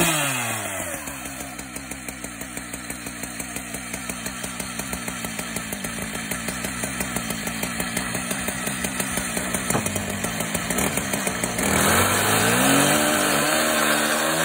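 A chainsaw cuts through HDPE high-density polyethylene plastic during a boat build, its engine snarling steadily and close, with a rapid chattering rhythm that holds for most of the clip before shifting pitch as it revs near the end.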